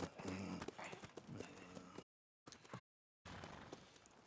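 Horse hooves clip-clopping in Red Dead Redemption 2, a brisk close rhythm of hoofbeats on hard ground, cut by two brief gaps of silence before resuming.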